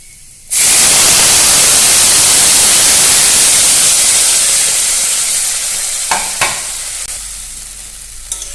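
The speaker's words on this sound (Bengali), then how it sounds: "এখন আমি ডালটাকে দিয়ে দিব" Lentils for dal shuktani drop into a hot pan and break into a loud, steady sizzle with scraping stirs, the hiss fading slightly over several seconds, with a few faint clicks near the end and no talking.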